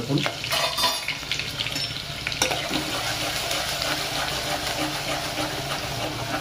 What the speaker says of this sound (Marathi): 5-6 चमचे तेल घेतले आहे. तर सर्वात प्रथम आपण टाकणार आहे कढीपत्ता.